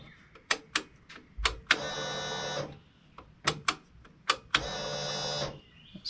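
A fuel pump on a 1988 Honda Goldwing GL1500 that sat 21 years runs in two steady buzzing bursts of a couple of seconds each, close and fairly loud, with sharp clicks and taps around them.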